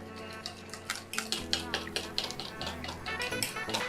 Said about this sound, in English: slowly I am going to mix in my dry mix into the wet. Mix it little by little.